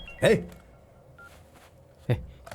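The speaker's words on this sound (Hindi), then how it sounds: "सर, आपके लिए कोई कॉल आ रहा है सर।" A telephone rings with an incoming call in a Hindi-dubbed action film scene. Two short electronic bursts are separated by a pause of almost two seconds, at moderate loudness.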